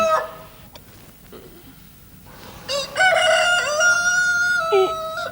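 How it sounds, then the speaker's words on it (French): A rooster crows at night in a garden, one long loud cock-a-doodle-doo rising and holding near the end after a quieter stretch of faint background murmur. "le coq chante juste au moment où je commençais à m'endormir"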